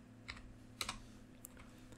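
A few soft keystrokes on a computer keyboard, spaced irregularly, as a hashtag search is typed. They sound quiet and close, over a low steady hum.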